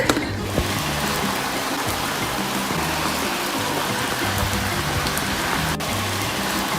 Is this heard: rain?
yes